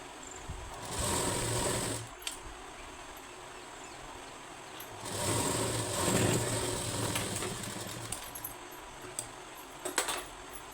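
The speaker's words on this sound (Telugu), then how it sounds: "ఆ సైడ్ క్లాత్ ఈ సైడ్ క్లాత్ వచ్చేసి పెట్టి స్టిచ్ చేసుకోవాలి" Sewing machine stitching side cloth for a shaped-belt blouse runs in two rapid whirring bursts, each lasting a couple of seconds, with quieter handling and clicks of the fabric between them, close by.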